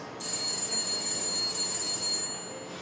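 A telephone bell rings continuously for nearly three seconds, a bright sustained trilling that fills the room before cutting off, with no voices over it.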